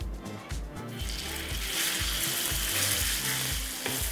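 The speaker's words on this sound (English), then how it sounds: "Now the beef goes in." Beef strips sizzling in a hot wok over a home stove, a steady loud frying hiss with repeated low thumps of stirring or tossing underneath.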